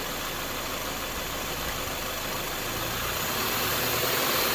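A Subaru engine held at raised RPM during air conditioning charging gives a steady, loud, continuous mechanical hum and whine that swells slightly toward the end, with no talking.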